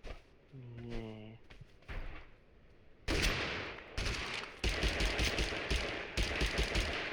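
A Mossberg shotgun fired in the game Totally Accurate Battlegrounds, with loud bursts of gunfire and clatter following a voice speaking early on, close and harsh, with short breaks between volleys.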